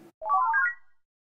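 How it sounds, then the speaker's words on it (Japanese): A cheerful rising melodic phone ringtone from a Japanese school romance simulation video game sounds once as a short, clear series of ascending tones, alone. "あら、電話、きなこからだわ"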